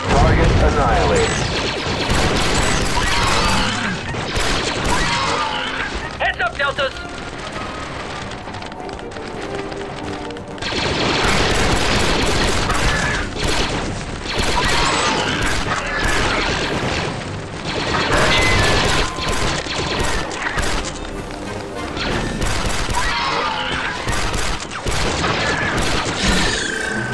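Star Wars: Republic Commando combat: booming grenade blasts and rattling blaster gunfire repeat in heavy bursts across the whole stretch, loud and close, with squad voices calling out at times.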